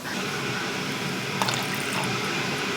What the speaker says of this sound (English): I'm going to actually put a little bit more water there.